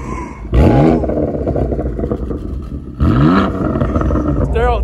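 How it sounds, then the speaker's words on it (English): A BMW M2 CS with a newly fitted loud exhaust, flaps open, roars through two hard rev climbs, booming deep and close, with a rasping growl between them and voices talking over it. "Daryl is letting me drive his car with the new exhaust, and now this is when the flaps are open"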